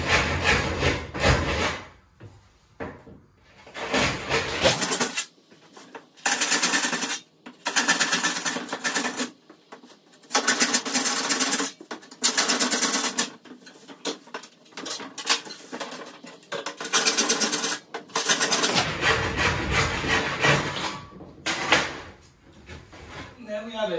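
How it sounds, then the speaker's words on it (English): A sharp hand saw cuts through a bathroom wall panel in a series of loud, rhythmic back-and-forth rasping strokes. Brief talking can be heard before and after the sawing. "We'll use a saw, a nice sharp saw."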